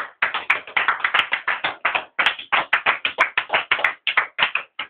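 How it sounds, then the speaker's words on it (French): Sustained rhythmic hand clapping from a church congregation acclaiming the Lord Jesus, a steady run of sharp, loud claps close by with no talk over it. "On acclame très très fort le Seigneur Jésus."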